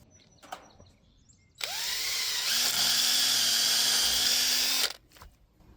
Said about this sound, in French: Donc on va prépercer. Une mèche toujours un peu plus petite que ce qu'on veut mettre dans le bois.